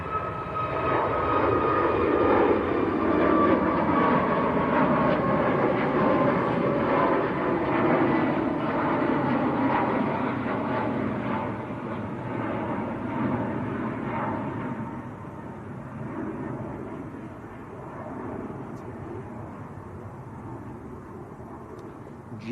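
A Ryanair jet departing Manchester Airport roars loudly and steadily, its broad engine rumble slowly fading as it climbs away, with no voices over it.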